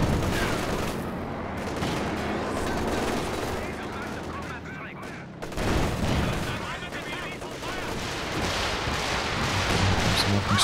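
A Stuka dive bomber strike in the strategy game Company of Heroes 2 brings dense battlefield gunfire, explosions and booms layered over continuous game noise, with a commentator speaking throughout.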